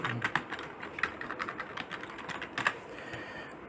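Steady, brisk keystrokes on a computer keyboard as HTML code is written, close and clear with uneven bursts of typing and no talk.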